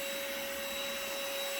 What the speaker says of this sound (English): This vacuum here, it has HEPA filtration for the exhaust and inside.